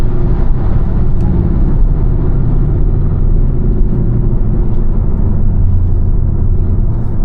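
Honda Civic 1.5 turbo VTEC with a CVT braking hard after full acceleration, heard from inside as a loud, steady low drone of engine and road rumble lasting several seconds, with no talk.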